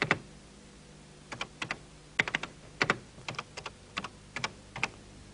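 Typing on a Texas Instruments home computer keyboard, a handful of quiet, close key clicks in short irregular bursts over a faint background hum.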